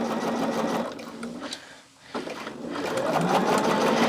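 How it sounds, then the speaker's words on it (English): A sewing machine stitching two quilt fabric pieces together with a scant quarter-inch seam, a close steady mechanical whir that pauses briefly midway and then resumes at a rising, faster pace. "Now we're going to get started here and just get these two pieces sewn here."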